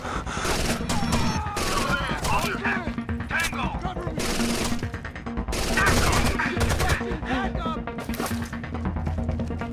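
Heavy gunfire in Rainbow Six Vegas 2, bursts of automatic weapons and single loud shots overlapping in dense volleys, close and continuous, with brief shouted commands mixed in.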